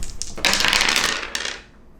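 Dice tumbling and clattering across a hard surface in one brief burst that fades out after about two seconds, close and fairly loud, with no talking.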